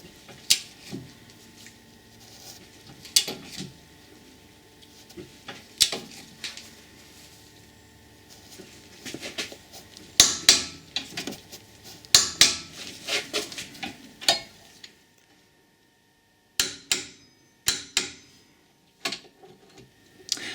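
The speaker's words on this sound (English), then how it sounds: "now we're going to get the torque wrench on there, 140 Newton meters that is" A torque wrench tightens rear brake caliper bolts to 140 Nm on a car with an electronic parking brake, giving sharp metallic clicks and clanks in scattered bursts against a quiet workshop background.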